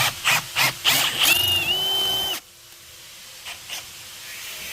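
A power drill bores out a hole in a VW T4 van panel, giving several short bursts followed by a sustained whining run that cuts off abruptly, then quiet with a few faint knocks.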